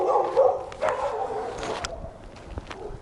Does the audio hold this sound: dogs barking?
yes